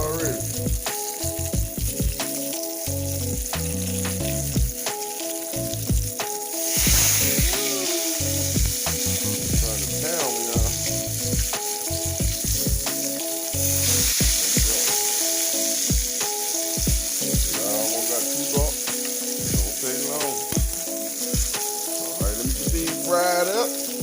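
Flour-dredged liver frying steadily in a pan, a continuous loud sizzle with scattered clicks and scrapes from handling the pieces, backed by tonal music throughout.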